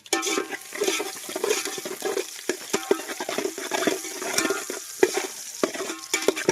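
Onions, green chillies and ginger-garlic paste frying in a pan, a crackling sizzle with frequent stirring scrapes and clicks of a spoon against the pan, moderately loud and near.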